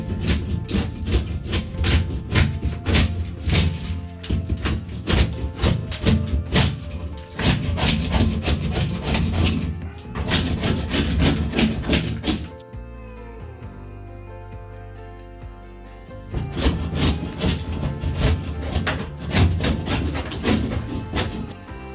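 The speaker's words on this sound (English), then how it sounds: "let's just start to scrape that down" Fresh render being scraped down on a communal entrance wall, loud rhythmic rasping strokes in repeated bursts, with a pause near the middle before the scraping resumes.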